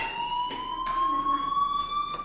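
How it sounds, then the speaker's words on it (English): A school fire alarm in the video game Life Is Strange, a continuous loud electronic tone that holds steady and slowly rises in pitch, ringing alone without a break. "Hey, do you hear that fire alarm?"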